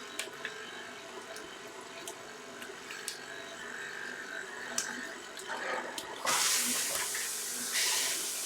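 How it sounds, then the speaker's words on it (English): Hot water poured into an oven while baking a loaf of bread: quiet trickling that swells into a louder, steady hissing splash toward the end, close by, with no talk. "I am going to put hot water into my oven to help with oven spring."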